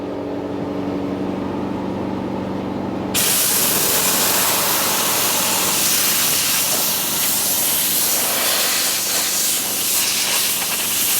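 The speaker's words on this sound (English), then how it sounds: "Hit it with some compressed air." Compressed air blasting onto a vehicle hood before a low-budget repaint, bursting in as a loud, harsh, continuous hiss over a low background hum and holding steady to the end.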